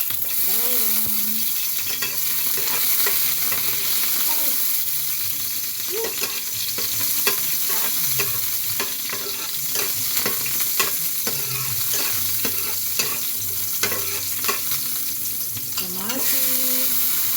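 String beans, onion and garlic cook in a pan, with a constant close sizzle and repeated ratcheting scrapes and taps of a utensil stirring, steady through the whole stretch.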